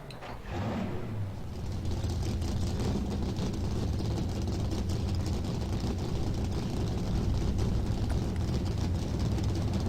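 Race car engines in NASCAR Racing 2003 rumble loudly and continuously as they start and idle, a dense low mechanical drone rising after the first second and holding steady with no talk over it.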